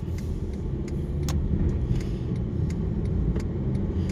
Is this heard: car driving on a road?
yes